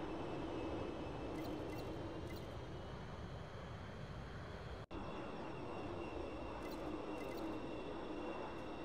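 A continuous airplane engine drone from the Metalstorm video game holds steady and loud, with a brief dropout midway and faint higher whines riding on top.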